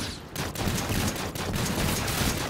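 Dense gunfire in a zombie shooter video game, rapid overlapping loud shots in a continuous burst.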